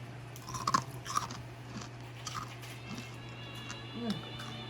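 Close-up crunchy chewing of buttermilk-brined fried chicken, with a few sharp crisp bites and wet munching under a low steady hum.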